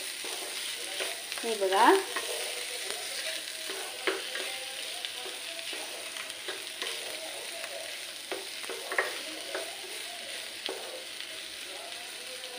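Potatoes and tomatoes stirred and frying in a pan over a lowered flame, a steady soft sizzle with scraping stirs, one louder stir near the start, a brief spoken phrase early on.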